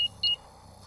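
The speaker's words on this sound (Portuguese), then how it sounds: "Eu só vou ligar o alarme." Two short, bright electronic beeps from a house alarm being switched on in a Peppa Pig cartoon at night, the second slightly longer, clear over a quiet background with no talking.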